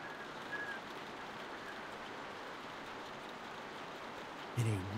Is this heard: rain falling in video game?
yes